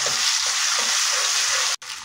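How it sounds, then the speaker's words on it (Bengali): Ground spice paste of garlic, ginger, cumin and green chilli fries in a little oil, a loud steady hissing sizzle with faint stirring, briefly cut out near the end. "তারপরে আমরা মশলাটা হালকা তেলে ভেজে নেব"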